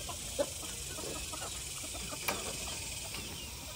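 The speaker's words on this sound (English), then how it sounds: "I want to go check on the chickens and turkeys" Chickens and turkeys in a backyard coop give a few faint, scattered clucks over a steady background hiss, with one brief louder call near the start.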